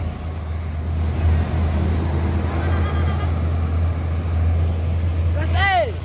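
Double-decker bus driving on a road in West Sumatra, a steady loud engine drone and road rumble throughout, with people talking over it and a short horn-like tone near the end.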